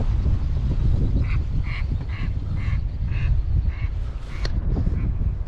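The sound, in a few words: flock of about 30 mallard ducks quacking and flushing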